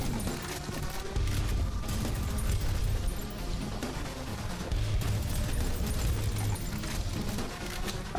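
Machine gun secondary fire in the early-access shooter Prodeus, both barrels firing at once: dense, continuous rapid gunfire with heavy low booms, sustained and loud through the whole stretch.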